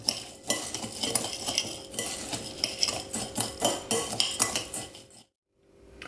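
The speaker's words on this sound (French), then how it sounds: "Alors je verse le beurre sur les biscuits et je mélange." A spoon scrapes and clinks steadily around a bowl while melted butter is mixed into crushed speculoos biscuits, close and continuous before stopping abruptly near the end.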